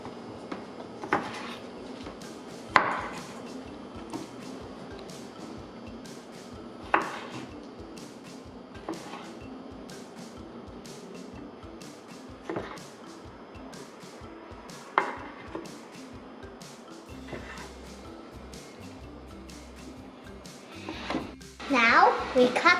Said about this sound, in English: Remember to cut the pepper into small triangles.